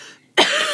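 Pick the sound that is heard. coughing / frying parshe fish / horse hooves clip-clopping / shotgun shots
coughing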